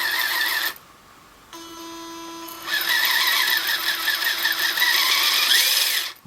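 An Enoze 9303E hobby RC car's electric motor spins up after power-on, a steady high whine with tonal harmonics that rises and holds loud for several seconds before cutting off.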